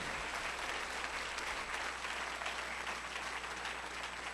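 Congregation at Iglesia Bethesda clapping in church, a thick, continuous wash of applause from many hands, fairly distant and even throughout.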